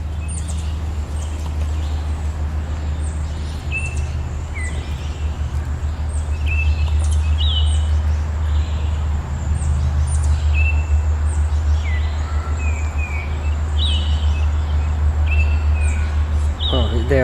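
Small birds chirp in scattered short calls at a zoo, faint against a loud steady low rumble, with people talking nearby.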